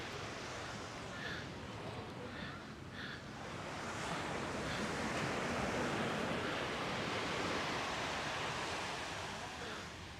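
Ocean surf rolls continuously onto the beach at Coney Island, Brooklyn, a broad steady wash of waves swelling in the middle, with wind noise on the microphone and no clear talk.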